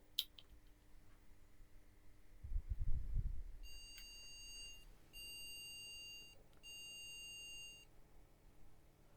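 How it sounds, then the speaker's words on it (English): Three electronic beeps from an MSI B650 Gaming Plus Wifi motherboard speaker at boot, high-pitched and evenly spaced, after a soft thump and faint fan-like hum in a quiet room. "There was like 3 beeps, if you heard that."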